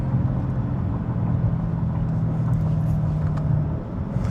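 A Dodge Challenger engine while driving: a loud, steady low drone with a constant hum that eases off slightly near the end, with no voices.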